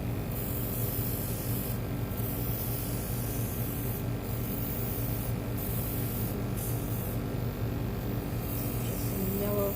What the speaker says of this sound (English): Handy dandy airbrush. I'm going to start with yellow. Give it a little test run.